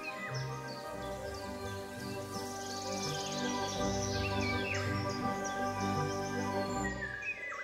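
Several forest birds sing and call over a steady insect chorus, with overlapping whistled phrases and trills at moderate distance, continuous throughout.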